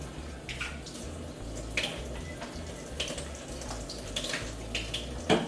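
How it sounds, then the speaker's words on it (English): Running tap water splashes over hands being washed at a sink, a steady soft rush with small irregular splashes and handling noises, close by and fairly quiet. "I'm gonna wash my hands"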